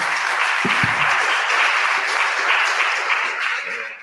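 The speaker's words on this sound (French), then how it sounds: "Je voulais vous proposer d'applaudir à nouveau les intervenants pour leurs différentes présentations." Steady applause from a conference audience for the speakers, many hands clapping continuously at moderate loudness, tapering slightly at the end.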